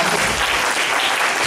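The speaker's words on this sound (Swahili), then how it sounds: "Mungu tupige Bwana makofi" A church congregation claps together in praise during a sermon, a full, even burst of applause filling the room briefly.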